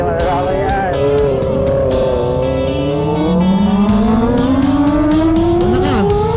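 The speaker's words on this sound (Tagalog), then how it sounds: "subukan na natin yung motor ni Richard." A motorcycle on a riverside test ride revs loudly and steadily, its engine pitch climbing and falling with a strong rising whine near the end, with voices talking over it.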